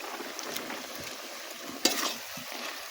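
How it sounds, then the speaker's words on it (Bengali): A fish curry with potatoes is stirred in a pot after garam masala powder goes in, giving a soft continuous sizzle with faint scraping strokes and one sharper knock, close and low in level. "গরম মশলা গুঁড়োটা দিয়ে ভালো করে নাড়িয়ে নিলাম"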